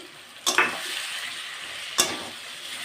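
Cumin and ginger paste sautéing in a pan while fish curry with cauliflower cooks, a steady soft sizzle broken by two sharp stirring scrapes of the spoon, close and alone.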